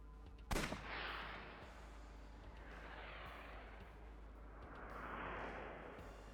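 A single sharp gunshot rings out in the Ai: The Somnium Files video game, then rolls into a long, low reverberant rumble.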